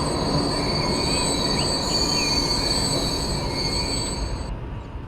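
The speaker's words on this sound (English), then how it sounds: "to add an additional level of detail, also effects like the squeaking of the brakes are realized" High-pitched metallic brake squeal from a train in the game Transport Fever, sustained steady tones over a constant rumble of wheels on rails, loud and close throughout, fading slightly at the end with no voices.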